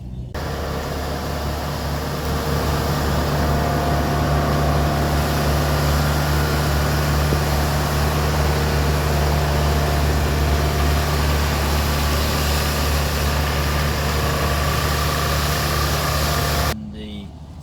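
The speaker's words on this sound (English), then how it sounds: "Wetting machine has just come through, which I thought was worthwhile showing." Wetting machine spraying drying oil on a crop passes as a steady, loud engine drone with constant low hum and broadband spray hiss, holding for about seventeen seconds before cutting off.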